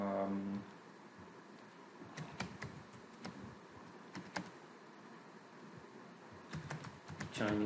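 Quiet clicking of keys as text is typed on a computer keyboard, a few scattered taps followed by short bursts of rapid keystrokes, with brief speech at the start and end.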